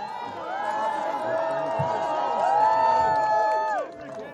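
A crowd greeting the new king cheers and calls out in a sustained swell of voices, rising toward the end before easing, with individual shouts standing out close by.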